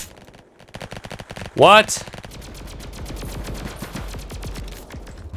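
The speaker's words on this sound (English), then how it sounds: "it's looking like I gotta use the ray gun" Rapid bursts of ray gun fire in the Roblox Flag Wars video game, a fast rhythmic stream of zaps running through the clip, with a short loud rising whoosh in the middle and a player's brief spoken exclamation.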